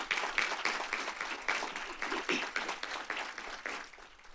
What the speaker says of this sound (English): Give him a hand of applause, please.